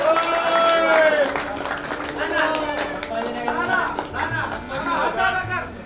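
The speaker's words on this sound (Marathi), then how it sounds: "टाळ्या वाजवायला कमी पडू नका." At a Bhiwandi bus depot staff gathering, an audience claps in scattered bursts of hand-claps while someone speaks loudly over a microphone throughout.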